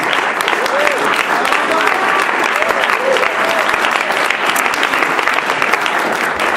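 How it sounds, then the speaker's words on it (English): Steady, dense applause from a conference audience at an awards final live presentation fills the whole stretch, loud and continuous with many hands clapping. "thank you for our applause"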